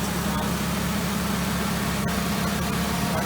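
A 2003 Volkswagen Eurovan engine idles a couple of minutes after start-up, with a steady, even low hum and a faint airy hiss that continue unchanged throughout.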